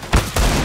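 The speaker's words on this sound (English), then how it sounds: "Suppressing fire!" Gunfire in Counter-Strike: Global Offensive, laying down suppressing fire: two loud, close, sharp bursts in quick succession, the second sustained and heavier.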